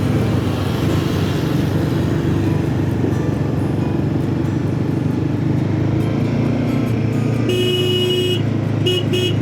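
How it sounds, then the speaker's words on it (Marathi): Horns sound on the Zojila Pass mountain road between Srinagar and Kargil, with a sustained vehicle horn blaring near the end over a steady loud rumble of engines and road noise. "तो हॉर्न दिला तर साईडला होणंच आहे"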